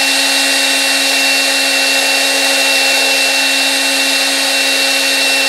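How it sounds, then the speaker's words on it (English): A power drill whirs steadily and loudly at a constant pitch throughout, a continuous motor whine with no pauses and no voices. "Completely with a drill, not using the fancy stuff at all."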